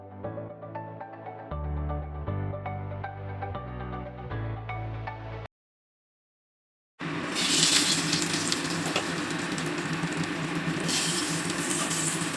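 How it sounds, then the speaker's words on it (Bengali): Brinjal (eggplant) fries in a covered pan with a loud, dense, continuous sizzle and crackle. It starts after a stretch of music and a brief silence and carries on alone to the end. "বেগুনটা ভালো করে ভাজা ভাজা করার জন্য একটু ঢাকা দিলাম।"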